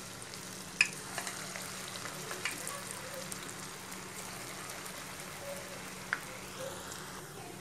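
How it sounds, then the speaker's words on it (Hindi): Semolina pakoras frying in hot oil on a low flame, heard as a quiet, even crackling sizzle with a few faint clicks, fairly distant and low in level. "देखिए ऑयल हमारा गरम हो चुका है, हम इसमें पकौड़े फ्राई करेंगे।"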